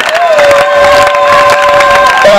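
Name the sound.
congregation applauding and cheering in church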